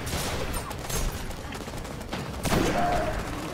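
Gunfire in the video game Destiny: The Taken King, a series of rapid shots and blasts over a constant wash of game noise, with a louder burst near the end.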